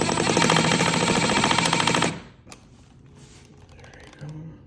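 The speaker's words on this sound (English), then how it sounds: "now we're just gonna drive the screws down to the laser line" A power driver runs screws into window casing with a loud, dense, rapid rattling whir for about two seconds, then stops abruptly, leaving faint handling clicks and low room noise.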